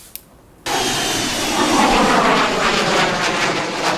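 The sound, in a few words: IDF Ching-kuo fighter jet engine during low-altitude aerobatic roll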